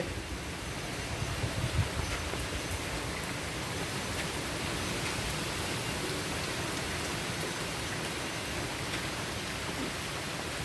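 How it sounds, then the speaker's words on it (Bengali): Heavy rain pours down in a steady, dense hiss that never lets up during a storm, with no voices. "এদিকে তো খুব ঝড় বৃষ্টি হচ্ছে"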